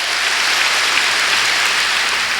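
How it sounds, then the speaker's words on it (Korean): A church congregation at a Korean worship service applauds, a dense, loud and steady wash of clapping with no pauses and no speech over it. "박수치며 하나님께 영광을 돌리고"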